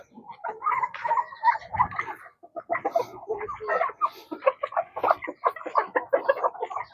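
A chicken clucks in a series of close, bright bursts, pausing briefly before resuming a quick, uneven rhythm.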